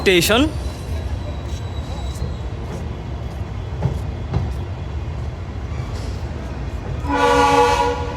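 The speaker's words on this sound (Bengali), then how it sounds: "ঢাকাগামী ক্যাটেল প্লাস ম্যাঙ্গো স্পেশাল ট্রেনটি এখন Gendaria junction rail station through pass যাচ্ছে" Cattle and mango special train passing through Gandaria junction railway station in Bangladesh, with a loud horn blast at the start, steady rumbling of wagons, and a second long horn near the end; a voice talks over it.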